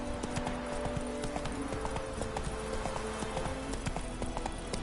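Roach the horse gallops in The Witcher 3, a steady, close clip-clop of hooves running continuously throughout, with a faint whinny.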